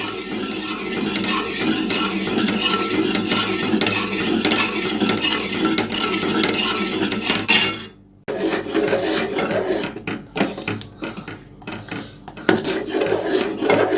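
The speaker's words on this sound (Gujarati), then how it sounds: "આપણે અપ્રોક્સ 10 મિનિટથી આને કન્ટિન્યુ સ્ટર કરી રહ્યા છે" A spoon stirs homemade ice cream mixture thickened with cornflour in a pot over the stove, continuous close scraping and rasping against the metal with a short pause before the stirring resumes.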